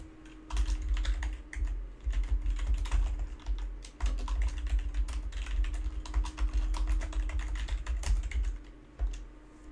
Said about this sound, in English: Featuring very loud keyboards